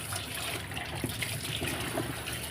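Water trickles and splashes softly as glass jars are rinsed under a tap, a faint, continuous running sound with small irregular spatters and no talking.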